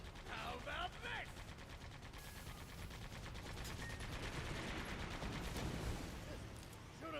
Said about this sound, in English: Shoot him down with the machine gun.